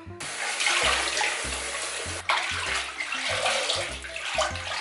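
A blouse being hand washed in cold water, with steady splashing and sloshing close by and low rhythmic thumps as the fabric is rubbed and pressed, continuing without pause and with no talking.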